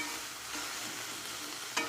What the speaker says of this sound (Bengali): দেওয়ার পরে মাছগুলোকে এইভাবে আস্তে আস্তে আমি উল্টে দেবো।